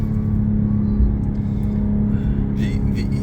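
BMW M240i with its B58 engine pulling hard under full throttle, a steady loud low drone that holds throughout, with higher whine appearing near the end.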